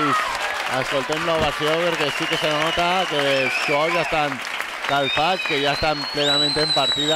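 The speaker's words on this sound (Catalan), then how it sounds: "Escoltem l'ovació" Crowd ovation at a galotxa pilota final (Valencian handball) on a cold day, with sustained applause and cheering rolling under a commentator's continuous talk throughout.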